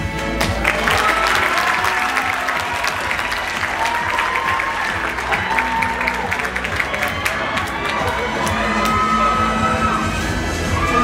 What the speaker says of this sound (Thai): ขอเสียงปรบมือกับผู้เข้าประกวดทั้ง44ท่าน